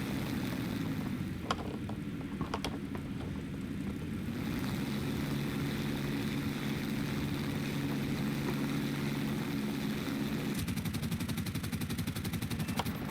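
Fiat CR.42 Falco biplane engine in War Thunder, a steady propeller drone that runs throughout, with short bursts of machine-gun fire rattling over it at a few points.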